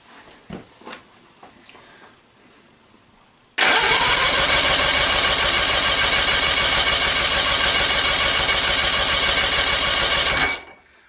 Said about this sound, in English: you can tell by the crank in there that that bottom cylinder does not have a lot of compression